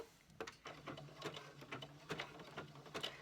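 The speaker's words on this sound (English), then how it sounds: "And do that with a zigzag stitch at 3/8 seam allowance." Sewing machine running a zigzag stitch on a thumb-hole cuff, a steady rapid mechanical patter with regular needle strokes and brief pulses, fairly close and moderately loud, with no talking.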